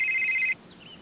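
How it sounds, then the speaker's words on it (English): A cellular phone in a Motorola advert trills with a bright, steady electronic ring for about half a second, then stops abruptly, leaving faint room tone. "Herman, you got the cellular phone, don't you?"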